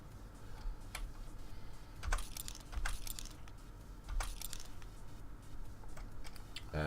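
Typing on a cheap computer keyboard, with scattered sharp clicks and small bursts of keystrokes at an irregular pace, close and fairly quiet over a faint steady background hum.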